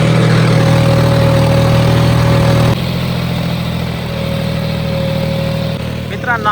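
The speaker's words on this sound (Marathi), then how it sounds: "माऊली भाऊ ट्रॅक्टर चालवत आहे" A John Deere tractor hitched to a plough runs with a steady, loud mid-pitched engine drone. The engine note drops slightly partway through and keeps running to the end.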